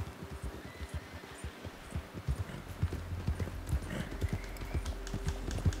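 Horse hooves clip-clop in Red Dead Redemption 2, a quick, steady run of hoof strikes close by and moderately loud, with a low rumble building beneath them partway through.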